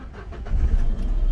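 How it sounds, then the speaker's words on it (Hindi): A Renault Kwid engine started with a newly programmed key, heard as a loud, close, low rumble that swells and settles into a steady idle, with no talk. "ये गाड़ी हमारी उससे भी स्टार्ट हो चुकी है"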